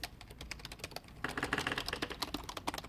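Computer keyboard at a retro computing event, with keys that feel spongy and a bit cheap, typed on in quick, irregular clicks, sparse at first and then a denser burst of rapid keystrokes, close and fairly quiet.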